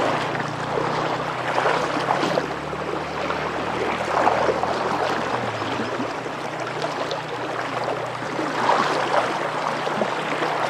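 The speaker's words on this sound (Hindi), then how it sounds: "पानी काफ़ी तेज़ है यहाँ पर।" Fast-flowing river water being waded through in a mountainous area after heavy rains, a continuous churning rush and splash around the legs, close and steady, with faint wind and no voices.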